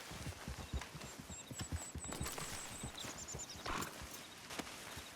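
Horse in Red Dead Redemption 2 with steady clip-clop hoofbeats on the ground and a brief whinny partway through, set in a soft outdoor ambience.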